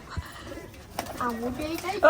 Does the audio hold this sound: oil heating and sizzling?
no